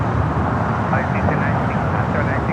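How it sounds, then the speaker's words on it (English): A United Express SkyWest Embraer E-Jet rumbles at LAX airport, a loud, steady broadband jet roar filling the whole moment, with voices talking underneath. "That was United Express SkyWest Flight 5459 headed to Reading on that E-Jet."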